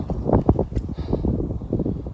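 Strong wind on a mountain along the Appalachian Trail buffets the microphone in loud, gusty rumbles that rise and fall.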